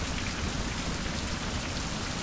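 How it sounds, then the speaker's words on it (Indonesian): Steady, dense rainfall drenches the outdoors in the island survival game Fountain of Youth, a loud unbroken hiss of drops with no voices. "Sekarang masalahnya adalah di luar hujan"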